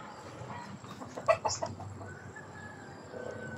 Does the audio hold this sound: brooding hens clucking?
yes